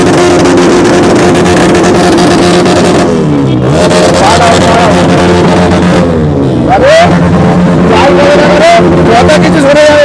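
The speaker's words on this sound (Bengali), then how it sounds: "আওয়াজটা পাচ্ছ? দিচ্ছে না, বার্ন আউট হচ্ছে, বার্ন আউট।" A motorbike doing a burnout on a Sunday ride, the engine a loud, continuous roar close by with rising and falling revs and pitch sweeps around the middle, a voice speaking over it.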